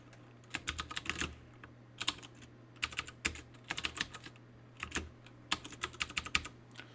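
Fingers tap at a computer keyboard in quick, uneven bursts of clicks separated by short pauses, close and fairly quiet over a steady low hum.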